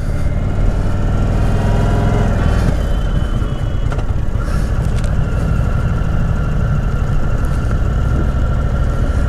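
An Indian Sport Chief motorcycle rolls along at slow speed, its engine a loud, even low rumble that stays steady throughout with a slight shift in tone early on.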